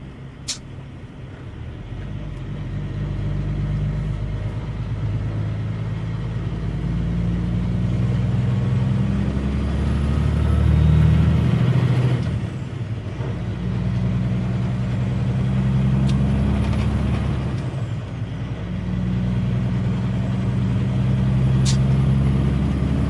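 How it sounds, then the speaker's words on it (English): A road train truck on a delivery run near Perth uses its engine brake, a steady low diesel drone that swells and falls in long waves, close and continuous with no talking. "I'll give the engine brakes a bit of a go as well."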